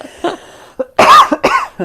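Several harsh coughs from a nearby person, a couple of short bursts in quick succession, loud and close.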